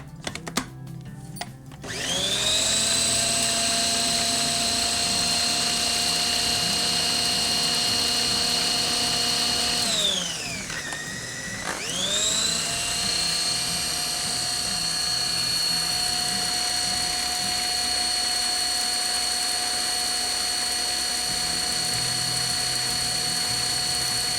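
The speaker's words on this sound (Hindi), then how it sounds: "मैं इसको भी मज़ीद ब्लेंड करूँगी" A blender whirs loudly and steadily as it blends guava (amrood) chutney. The motor slows and dips briefly about midway, then spins back up to full speed, with no talking.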